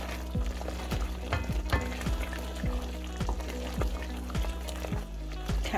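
Chilli and dry methi powder stirred into sizzling oil for chicken korma in a frying pan: a constant loud sizzle with a regular rhythm of scraping strokes, close up, with no talking.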